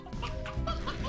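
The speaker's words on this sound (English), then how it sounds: "Yeah, these are all briar hens." Briar hens in the video game Slime Rancher cluck repeatedly on a ranch, a steady run of close, busy fowl-like calls over a low background bed.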